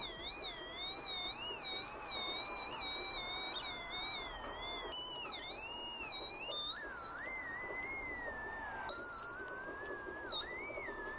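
A homemade theremin-style electronic cat toy with an extension wire sensor gives off a faint, wavering electronic whine whose pitch slides and warbles continuously with stacked harmonics, steady and alone.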